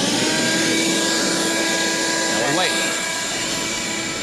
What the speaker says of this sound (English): What we're going to do is turn on this vacuum and suck all the air out from below the vinyl